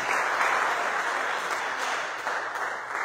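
A church congregation at a Sunday service applauds the Lord with steady, dense clapping that holds loudly and evenly throughout, with no break.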